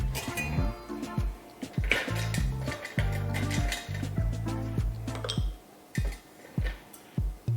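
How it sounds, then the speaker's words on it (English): Ice cubes tumble into a mojito glass, making a run of close, bright clinks and clatters with short pauses between them, like several handfuls being added. "Now I'm going to add in more ice cube."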